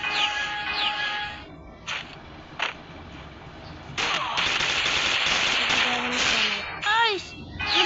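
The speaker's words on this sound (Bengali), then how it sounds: "কি গুলি মারে গাইস?" Rapid machine-gun bursts and single gunshots from the Free Fire battle royale game crackle through the clip, loudest near the end. Other electronic game effects are mixed in, and a voice talks over parts of it.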